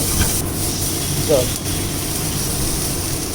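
Water poured into a hot pan of rohu fish curry gives a steady broad hiss that runs throughout, with a brief stirring scrape partway through.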